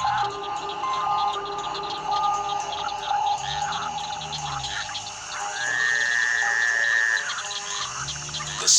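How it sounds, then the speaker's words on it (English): A dense chorus of frogs croaking and trilling continuously, several overlapping calls close by, steady and loud throughout. "The sound of frogs fills the night."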